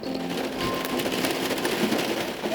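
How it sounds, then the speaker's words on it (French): Steady rain falls in Ireland in a continuous, even patter that stays close and fairly loud, with no voices over it. "C'est très pluvieux aujourd'hui en Irlande, en tout cas dans le coin où je suis."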